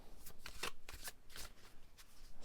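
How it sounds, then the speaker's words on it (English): A new tarot card deck is shuffled close up, its cards riffling and slapping together in several quick bursts that repeat at an uneven rhythm, with no talking over the sound. "So I'm going to see how they handle a shuffle."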